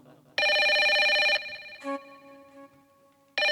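A telephone bell rings loudly in one long burst, pauses, then starts again near the end, alone with no talk.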